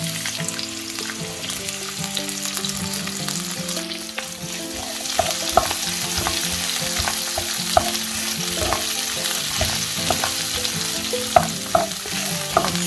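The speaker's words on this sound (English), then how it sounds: "So once the oil's heated up, we're going to add in the onions." Onions crackle and sizzle loudly in hot oil for a lasagne sauce, a dense close frying hiss with small pops and occasional stirring scrapes.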